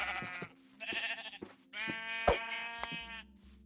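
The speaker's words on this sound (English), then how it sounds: "Can't save all the sheep." Sheep bleat repeatedly in the video game Spore, several clear drawn-out calls in quick succession, close and loud with short thumps between them.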